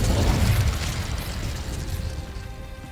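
An Incendio fire spell blast in Hogwarts Legacy, a loud whooshing burst of flame at the start that rumbles and fades into a roaring hiss over a few seconds.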